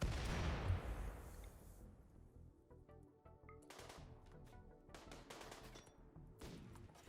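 An incendiary launcher firing in the video game RimWorld: a heavy opening blast that fades into a series of sharp cracking shots and bursts, spaced irregularly over a faint background.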